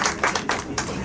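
An audience at the TCEI SIWPC Global 2023 event in Hyderabad claps to welcome the TCEI General Secretary, a brief burst of lively, close applause with a few distinct claps standing out.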